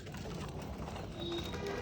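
Pigeons cooing in a loft, faint low murmurs rising slightly toward the end, distant and soft with no voices.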